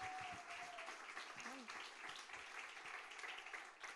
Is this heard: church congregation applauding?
yes